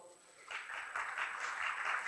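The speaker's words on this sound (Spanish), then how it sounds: "Por favor, un fuerte aplauso." An audience applauding to welcome an orthopedic doctor before his talk on joint replacement, the clapping starting from quiet and swelling into a steady, moderately faint wash of many hands.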